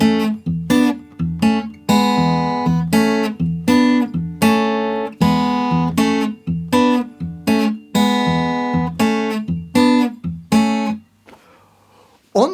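Acoustic blues guitar played fingerstyle at a brisk tempo, with a steady run of plucked notes over a bass line, clear and close, before it stops and rings out near the end.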